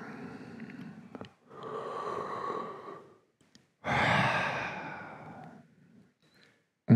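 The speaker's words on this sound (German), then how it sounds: "Gern mit laut, ausgiebig gähnen." Loud, drawn-out yawns during a yoga stretch, several long breathy exhalations rising and falling with short pauses between, close and fairly soft with no talking.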